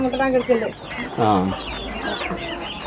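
Native country chickens on a homestead cluck in short, close bursts, one louder squawking call rising in the middle, with softer clucks and scattered background sounds around it.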